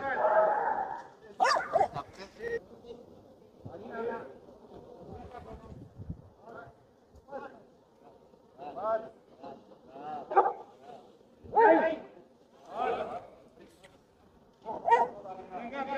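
Customs detection dogs bark in short, scattered bursts during a training session, with a trainer's voice calling commands between and over the barks at moderate distance.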